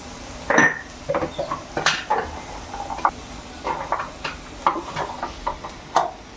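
Betel leaves and dried fish are sautéed in a pan, heard as a close, irregular clatter of a spoon stirring against metal over a faint hiss.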